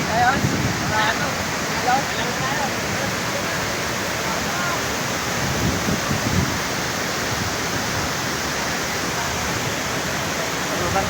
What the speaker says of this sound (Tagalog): Hulugan Falls, napakaganda guys.